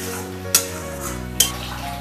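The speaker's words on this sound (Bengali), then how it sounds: "পালং যে শাক বাটাটা দিয়ে দিলাম সেটাকে এবার ভালো করে মশলার সাথে আমি কষিয়ে নেব" Spinach paste stir-fried with spices in a pan, a low steady sizzle with two sharp utensil scrapes against the pan close by, no voices.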